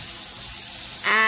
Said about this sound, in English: I'll give it a mix.